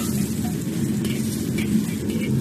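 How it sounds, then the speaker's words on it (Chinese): Fresh Sichuan peppercorns and red chilies toss in a dry wok without oil, making a continuous close sizzle and rustle with light stirring scrapes throughout. "我们把这个新鲜的花椒跟红辣椒稍微炒一下，不需要下油，稍微炒香一下就可以了"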